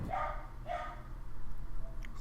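Two sharp dog barks from Batman - The Telltale Series, close and loud over a low game-score rumble, followed by quieter background sound.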